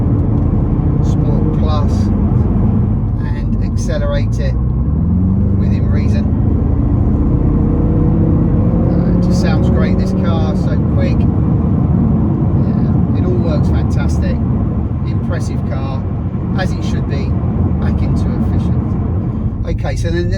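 A BMW M6 in Sport Plus mode accelerates from inside the cabin, its engine note rising steadily in pitch through the gears under a constant road rumble, with someone speaking intermittently over it.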